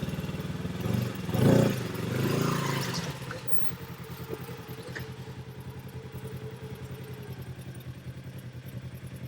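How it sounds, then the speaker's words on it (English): A dirt bike engine climbing rocks on a night trail ride at Windrock gives a sharp rising throttle blip and a second surge, then settles into a steady, close idle burble. "It's that blip of throttle."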